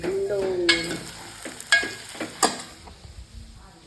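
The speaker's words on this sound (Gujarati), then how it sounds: "સરસ મજાનું ભીંડાનું શાક વઘારી નાખ્યું છે" Okra curry sizzles in a frying pan as it is tempered and stirred, with several sharp spoon scrapes and clanks against the pan over a steady hiss.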